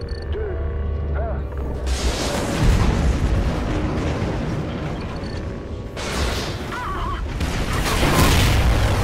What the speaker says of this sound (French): Explosion de la station.